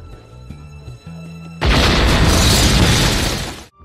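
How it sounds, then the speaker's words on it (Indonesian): A room blows up in a Jackie Chan action movie scene: after a few low tones, a sudden loud explosion bursts in with a roaring, crackling rush of debris that sustains for about two seconds before cutting off. "wanita itu masuk ke dalam ruangan Carter dan meledakkan ruangan tersebut."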